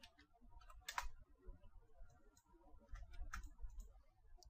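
Computer keyboard typing, scattered quiet clicks of individual keystrokes close to the microphone, irregular and soft with short pauses between bursts.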